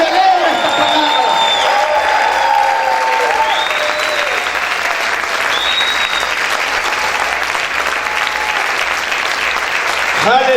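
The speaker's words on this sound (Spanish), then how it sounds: "Grita, aplaude, celebra esta palabra." A church congregation claps and cheers loudly and continuously, dense applause with whoops and shouted voices rising over it, ending abruptly after about ten seconds.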